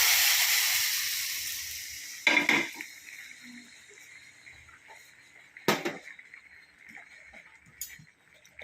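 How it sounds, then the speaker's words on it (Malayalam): Fried mustard seed tempering with curry leaves poured into a prawn, drumstick, jackfruit seed and tomato curry, giving two sharp bursts of sizzling hiss over a soft background crackle. "കടുക് വറുത്ത് നമുക്ക് ഇങ്ങോട്ട് ഒഴിച്ച് കൊടുക്കാം"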